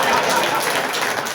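Audience clapping fills a meeting hall, a dense continuous wash of applause from many hands, steady and fairly loud throughout with no voices standing out.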